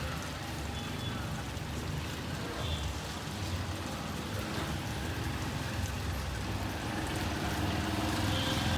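Light outdoor rain produces a steady, even hiss of falling drops that continues without break.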